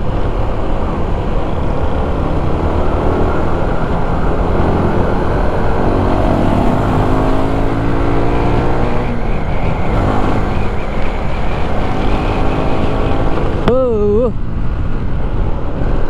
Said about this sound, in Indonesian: Ada bus gunung, rapat.